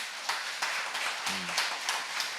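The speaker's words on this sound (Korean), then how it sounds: "우리 박수 한번 쳐주세요" A church congregation at a Sunday worship service gives a few scattered, light claps, faint and sparse, with a brief voice sounding partway through.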